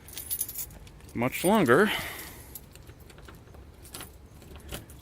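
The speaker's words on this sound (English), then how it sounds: "I am going to have to unlock this door, I believe." A bunch of house keys jangles up close while a house door is being unlocked, a short bright rattle over quiet outdoor background, with someone speaking briefly near the start.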